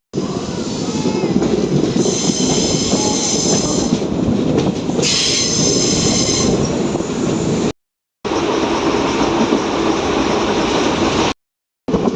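Superfast express train journeying from Coimbatore to Thiruvananthapuram, heard from inside an unreserved compartment: a loud, constant rumble of wheels on rails with high metallic squeals, briefly cut out twice.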